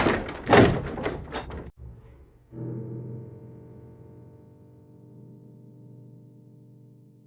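A door shuts with a heavy thunk in a dark audio drama, followed by a low droning hum that lingers alone.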